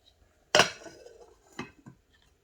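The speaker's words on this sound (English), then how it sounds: "I'll cover it with a lid, so that's going to help cook it faster." A metal lid clanks down onto a pot of boiling Maggi instant noodles, one loud sharp clatter followed by two softer rattles as it settles, with no talking.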